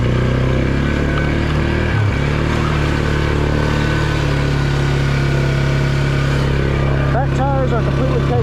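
Polaris UTV on stock tires runs through mud in two-wheel drive and high gear, its engine droning loud and steady throughout with a brief dip near two seconds.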